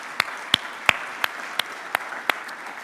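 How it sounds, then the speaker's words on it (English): Sparse clapping at the AviaDev closing remarks for event director Marla, a few distinct sharp claps spaced about a third of a second apart over a soft background wash, moderately close. "So massive round of applause for Marla."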